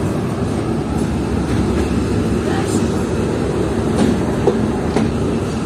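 The Tezgam passenger train rolls through a Pakistani railway station at platform three, producing a continuous heavy rumble with faint rhythmic clacks of wheels over rail joints, steady and close.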